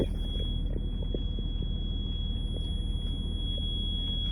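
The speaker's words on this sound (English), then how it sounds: "what you're hearing right now is an indication system letting us know that our air pressure is still building" A 2016 Thor Palazzo 36.1 motorhome's low air pressure warning buzzer drones as a steady high-pitched tone over a low engine rumble, unbroken for the whole stretch while air pressure builds.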